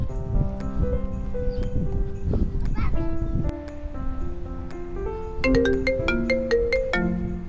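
A phone ringtone plays as a melodic sequence of tones, loud and close, and a rapid run of notes repeats in the second half. People talk through it.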